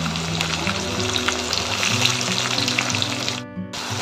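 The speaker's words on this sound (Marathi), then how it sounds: "व्यवस्थित आपल्याला परतवून घ्यायचं आहे. 3 ते 5 मिनिट परतवून घ्यायचं आहे." Onion and tomato sautéing with whole spices in a pan, a loud continuous sizzle and hiss close by with stirring underneath, briefly cutting out near the end.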